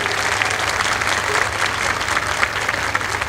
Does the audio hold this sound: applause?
yes